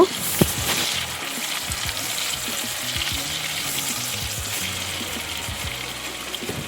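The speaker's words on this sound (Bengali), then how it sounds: "পেঁয়াজটা কিন্তু এই পর্যায়ে আমি রসুনের কোয়াগুলো দিয়ে দেব, দিয়ে আরও ভালো করে নেড়ে নেব" Onion and whole garlic cloves sizzle in a pan while being stirred, with steady frying hiss and scattered scraping clicks from a spoon, close up and moderately quiet.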